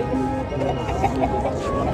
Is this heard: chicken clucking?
yes